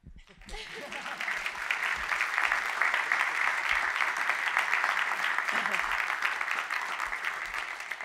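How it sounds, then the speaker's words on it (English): Audience in a school setting applauding the Foothill High School marching band, a sustained wash of many hands clapping that starts abruptly and holds steady, with faint voices and cheers mixed in. "I think you should clap."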